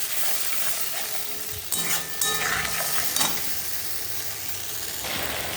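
Spice paste for potol curry stirred and fried in a pan, producing a loud continuous sizzle with clattering stirring strokes and scrapes in the middle, alone without talk.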